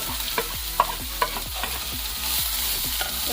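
Chopped onion frying with panch phoron in a pan for samosa filling: a bright continuous sizzle cut by quick, regular scraping strokes of a spoon stirring close by, no voices.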